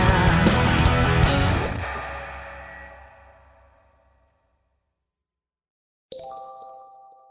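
A two-tone elevator arrival chime in an underground station rings out clearly and alone after a loud burst of noise fades into several seconds of near silence.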